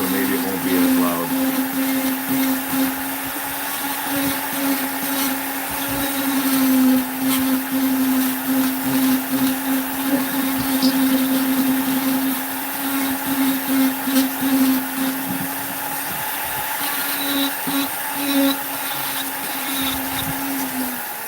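Flexshaft rotary carving tool grinding into soft wood in a Vevor carving setup, a continuous high motor whine with fluctuating rasping cutting noise, close and loud throughout over about twenty seconds.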